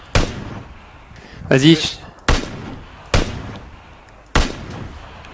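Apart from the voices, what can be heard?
gunfire in PlayerUnknown's Battlegrounds video game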